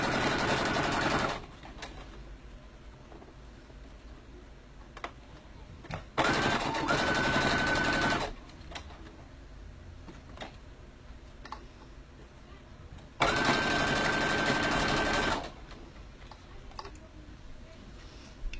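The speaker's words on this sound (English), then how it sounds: "we're just going to the right foot pedal, we're just going to stitch along this edge" A sewing machine stitches along a fabric edge in three bursts of steady whirring, each a few seconds long, separated by quieter gaps with faint background noise.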